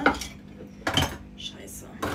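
Dishes and cutlery clatter in a home kitchen during washing up, with three distinct bursts of clinking metal and crockery close by and quiet pauses between them.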